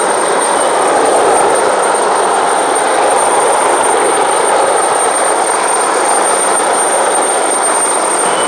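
A loud, steady rotor and engine roar fills the air, a helicopter moving away after a boat rescue exercise, holding a constant broadband drone with no voices.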